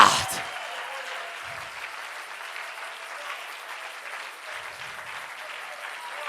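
Congregation applauding and cheering during a church service, a steady wash of clapping that carries on for several seconds at moderate distance with no talking over it.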